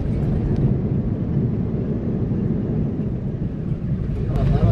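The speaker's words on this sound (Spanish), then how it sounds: "Ya vamos aterrizando." Heavy low rumbling roar of a passenger airplane cabin during landing, loud and steady, with voices faintly mixed in.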